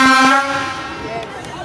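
Horn of a Slovak diesel locomotive nicknamed okuliarník, a turbocharged twelve-cylinder of about 1800 horsepower, gives one loud, harmonically rich blast that cuts off after a moment, leaving a fainter tail with some background noise.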